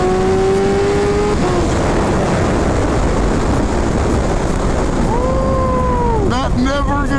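Kawasaki Ninja H2 motorcycle accelerating hard with a loud, steady engine roar that rises in pitch through gear changes, close and continuous for several seconds.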